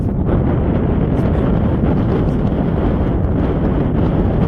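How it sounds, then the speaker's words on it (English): Strong wind on a hill near the SGR train station in Dodoma, Tanzania, roaring steadily and loudly across the microphone as a constant low rumble with no breaks. "there is a wind, like a lot of wind in Dodoma. I think you can hear it"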